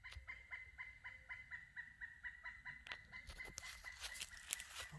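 Excited birds calling over and over, a repeated harsh clucking rhythm that grows busier and louder toward the end, with outdoor background noise.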